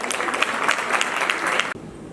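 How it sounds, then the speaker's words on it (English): An audience at a school's 20th anniversary talk show claps for former students and a teacher, a brisk close burst of many hands that stops abruptly, leaving a quiet room. "Please clap for them."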